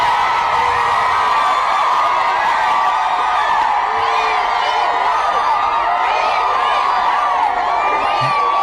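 A large political rally crowd in the Philippines roars with cheering, shouting and whoops, a continuous loud wall of voices with scattered higher yells rising above it.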